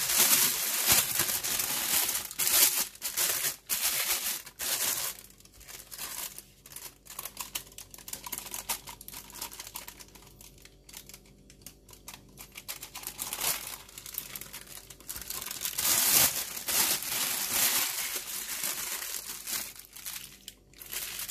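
A plastic piping bag filled with light blue-tinted mixture being handled while baking, giving continuous crinkling and rustling with brief quieter pauses, close and fairly loud.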